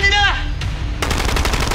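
A shout cuts off into a loud, close burst of rapid gunfire, the shots rattling in a quick, even stream for most of a second.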